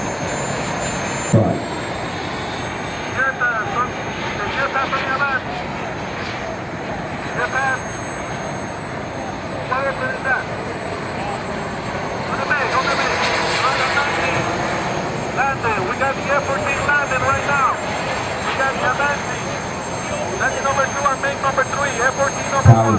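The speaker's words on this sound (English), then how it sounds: "Get a pass on the F-14." An F-14 jet fighter makes a pass at an air show, its engine roar rising to a broad swell midway over steady background noise, with people talking nearby throughout.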